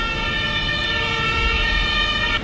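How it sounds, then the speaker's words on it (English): An ambulance siren wails steadily and loudly, with traffic rumble underneath. "an ambulance"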